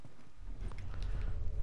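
Horse hooves clip-clop at a walking pace in The Last of Us, soft and somewhat distant, over a low rumbling background.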